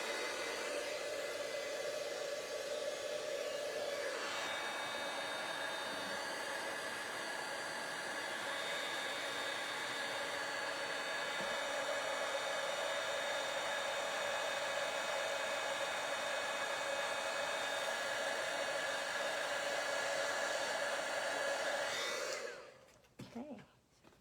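Electric heat tool blowing over embossing powder on a handmade Christmas card, a steady, loud whirring hiss that runs for over twenty seconds before it is switched off with a click.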